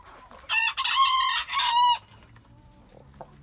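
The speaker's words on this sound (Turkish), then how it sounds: "Bu horozumuz." A rooster in a backyard coop crows once, loud and close, a long rising and falling call that breaks into several segments, then quiet clucking and low farmyard noise follow.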